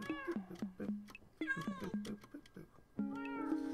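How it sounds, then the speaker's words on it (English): Minecraft cats in a cat café meow repeatedly in short, rising and falling calls that overlap one another. A steady tone and quiet voices run underneath. "there are definitely cats wandering around"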